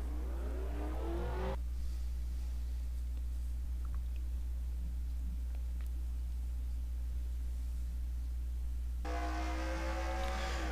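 Race cars on a short home track at a Utica event, their engines droning steadily throughout, with brief bursts of louder revving at the start and again near the end as cars pass close by.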